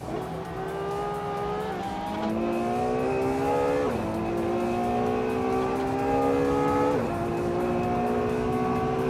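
A 2012 Ferrari F12 Berlinetta and other race cars roar around Bathurst in a racing video game, their engines droning steadily and loudly, with pitch rising through the gears and dropping sharply at several shifts.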